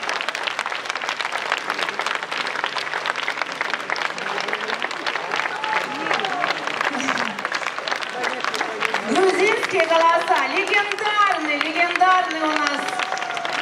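An audience warmly welcomes performers with sustained, steady applause, a crowd clapping loudly throughout, with voices talking over the clapping.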